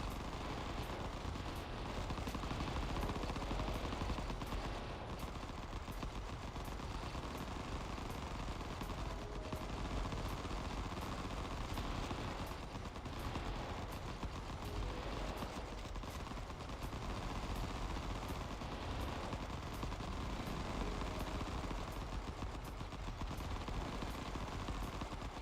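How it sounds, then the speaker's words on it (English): Rapid, continuous barrage of rocket fire from a spin dash with stacked frenzy effects in a video game, dense overlapping bursts and booms running loud and unbroken from start to finish. "So if I'm doing my spin dash, while I have 2 frenzies procced, I just get to shoot way more rockets than they intend."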